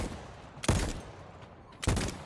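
Gunfire in the video game Voidtrain: two separate loud bursts of shots about a second apart, each a sharp onset with a short decaying tail over a low ambient game background.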